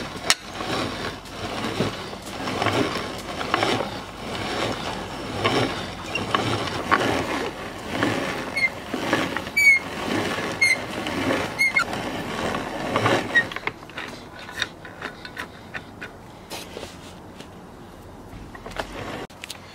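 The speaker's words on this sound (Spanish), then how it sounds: "Aquí vamos a moler nuestro maicito." Electric mill grinding cooked corn into masa for tamales, a steady mechanical whir and churn with rattling, rhythmic pulses that cut out near the end, leaving quieter clicks and handling noises.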